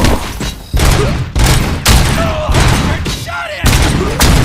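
Gunfire in the game RoboCop: Rogue City, a series of loud, close blasts with sharp onsets and ringing tails, spaced roughly a second apart, with voices shouting between the shots.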